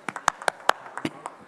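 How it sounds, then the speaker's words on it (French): Sparse, uneven handclaps from an audience at an open-stage session of a hotel and hospitality trade show, about nine distinct claps in quick succession rather than a full ovation, moderately close. "On peut applaudir Yann Fontaine,"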